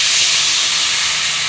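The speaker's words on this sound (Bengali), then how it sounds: "ঝোলের জল দিয়ে দিলাম।" Curry water poured into a hot frying pan of fried spices gives a loud, continuous hiss of steam, close up and unbroken for the whole moment.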